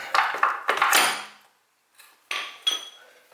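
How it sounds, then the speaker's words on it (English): The rear axle slides out of a BMW S1000RR sport bike's rear wheel with a run of close metallic clinks and scrapes, a short pause, then a few more knocks and slides. "Just put your foot under it, and that axle should slide right out."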